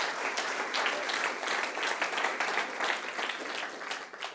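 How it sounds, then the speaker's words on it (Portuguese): A church congregation claps hard and steadily during a worship service, a dense, loud wash of applause that holds for several seconds without letup. "se você crer, aplauda forte o nome do Senhor Jesus"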